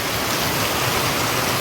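Steady village rain pours down with a dense, even hiss, close and unbroken, while cows stand out in the downpour.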